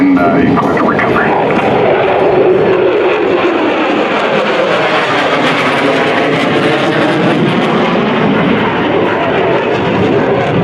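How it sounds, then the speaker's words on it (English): An F-16 fighter jet coming back to land at the Joint Base Andrews airshow, its engine a loud, continuous roar that holds steady throughout with faint crowd and announcer sounds beneath. "Our F-16's coming back to land now."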